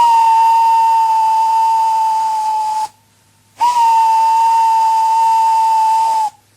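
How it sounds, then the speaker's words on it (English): A steam locomotive whistle gives two long, loud, steady blasts, each lasting about three seconds, separated by a brief silence. "Gordon went on whistling and whistling and whistling."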